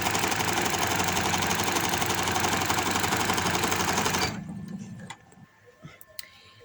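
A sewing machine runs steadily at speed, stitching the seam of palazzo pants in a dense, even mechanical whir, then stops abruptly partway through, leaving faint handling clicks and rustles.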